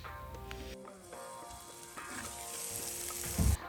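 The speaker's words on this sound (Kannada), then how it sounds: "ಸ್ವಲ್ಪ ನೀರನ್ನು ಹಾಕಿ ಫ್ರೈ ಮಾಡಿ" Egg puff filling sizzles steadily in a hot pan after soy sauce and water go in, a continuous close frying hiss with faint stirring scrapes and a brief louder burst near the end.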